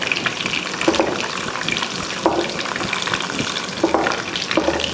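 Tempering of chana dal, urad dal, mustard seeds, cumin, crushed garlic and dried red chilies in hot oil, a loud, close, continuous crackling sizzle with repeated stirring scrapes throughout.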